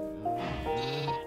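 A sheep in the video game Minecraft bleats, a single wavering call that rises and falls over about a second. It is close and clear, with no other sound.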